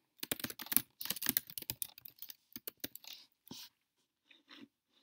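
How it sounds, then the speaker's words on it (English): Typing on a computer keyboard while setting up an online course, a close, quick run of uneven key clicks that thins out into a few scattered taps and short pauses. "you're going to go ahead and type in your name of your course"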